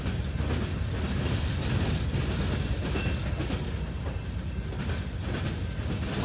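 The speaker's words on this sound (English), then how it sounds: "This is a coal hopper." A long CSX freight train of empty coal hoppers rolls past close by, a loud steady rumble with rhythmic wheel clickety-clack and rattling cars throughout.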